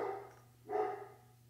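Great Dane dogs barking inside a house, two short, moderately loud bursts with a pause between them over a low steady hum.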